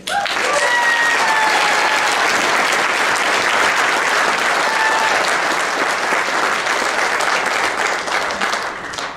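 Sustained, loud audience applause at the Lewis Clark State College Athletic Hall of Fame induction ceremony, welcoming former Warriors head coach Ed Schiff; steady crowd clapping fills the whole stretch, fading slightly near the end.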